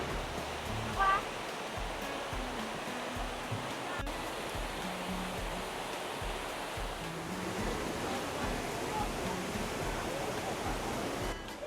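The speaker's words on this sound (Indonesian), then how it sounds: "Besar juga air terjunnya" A large waterfall on the outskirts of Taipei roars steadily with broad, rushing white noise, loud and unbroken throughout.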